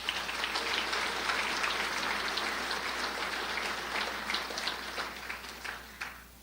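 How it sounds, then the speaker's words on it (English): Audience applause at a civic State of the City event, a dense, steady wash of many hands clapping that holds evenly, then thins and fades out near the end. "Let's give them a round of applause."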